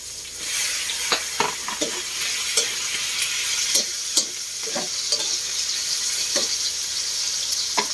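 Tomatoes sauté in a hot pan beside onions, giving a steady close sizzle throughout with repeated light scrapes and taps of a stirring utensil, no voices heard.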